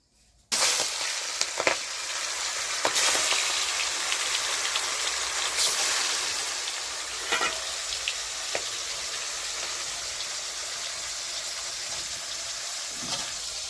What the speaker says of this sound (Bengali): তেলটা একদম প্রচন্ড গরম হয়ে গেছে। এখন আমি মাছগুলো ছেড়ে দিচ্ছি।